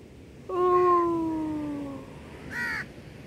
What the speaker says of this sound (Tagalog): Ang ingay ng mga uwak kasi andun sa taas ng puno may mga uwak.